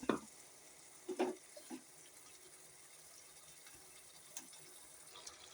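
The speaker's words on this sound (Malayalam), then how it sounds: "ഇനി ഇതിലേക്ക് കുറച്ച് വെള്ളം ഒഴിച്ച് നമുക്ക് അടച്ച് വെച്ച് വേവിക്കാം" Water is poured into a bitter gourd curry paste in a cooking pot, a few short splashing pours close by. They sound around the start and again a second later, with quiet handling noises afterward.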